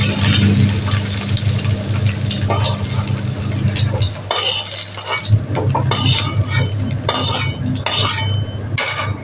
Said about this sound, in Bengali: আমি এটা কপিটা উঠিয়ে নিচ্ছি।